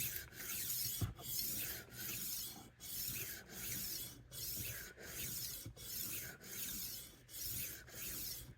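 A knife blade is passed back and forth on the 1500 grit disc of a rolling sharpener, giving about ten evenly spaced, close gritty rasping strokes in a steady rhythm.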